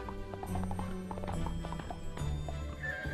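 Clip-clop of horse hooves and neighing foals in the video game Barbie Pferdeabenteuer 2, with a steady rhythm of hoofbeats and a few whinnies over a background game music track.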